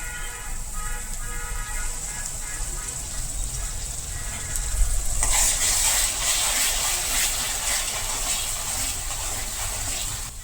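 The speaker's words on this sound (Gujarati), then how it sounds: "હવે તેમાં આપણે ટમેટાની પ્યોરી નાખી દેશું" Onions frying with garlic in a pan give a steady low sizzle that jumps to a louder, brighter hiss halfway through as tomato puree is poured in, then holds there, close up.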